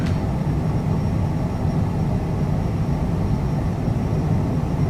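A Citation CJ4 business jet on its takeoff roll in Microsoft Flight Simulator, a steady, loud, broad engine roar with a deep low rumble holding constant throughout.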